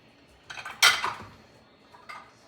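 A bowl clatters against other dishes as it is pulled out for cut-up beef in a black pepper stir fry, a couple of close ceramic knocks followed by a fainter clink.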